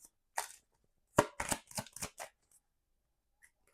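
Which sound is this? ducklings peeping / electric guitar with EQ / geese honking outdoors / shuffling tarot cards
shuffling tarot cards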